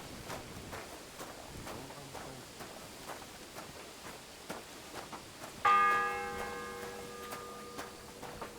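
A church bell in Kingdom Come Deliverance 2 strikes once, loud and ringing, after a stretch of quiet ambient game sound with soft footsteps, and its long metallic tone decays slowly.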